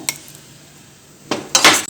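Utensils clink against dishes as gooseberry pickle is moved into a vessel: one sharp clink, a pause, then a cluster of close, bright metallic knocks and scrapes.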